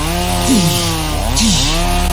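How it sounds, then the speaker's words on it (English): Two running chainsaws are pressed against each other in a clash, their engines howling loud and close, with pitch bending up and down as the chains grind together. "Chainsaw against chainsaw."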